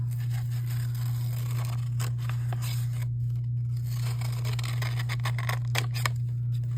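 Scissors snipping paper shapes for an art journal, with a series of short, close cuts and rustles over a steady low electrical hum.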